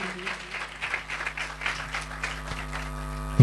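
Applause from the congregation at a Friday healing meeting in Gujranwala, a steady dense patter of clapping at moderate level, with faint voices and a louder thump at the end.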